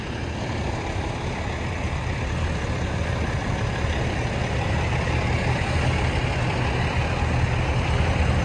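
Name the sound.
truck engine idling at auction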